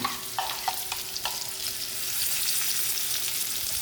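Sardines sizzle in hot coconut oil in a home kitchen pan, a bright, steady frying hiss with a few sharp crackles and pops near the start, close by and moderately loud, with no talking.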